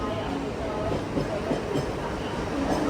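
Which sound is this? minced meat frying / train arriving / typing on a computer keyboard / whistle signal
train arriving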